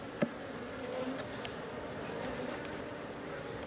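Honey bees buzz in a steady, close drone around swarm queen cells in an open hive, with one brief sharp tap near the start.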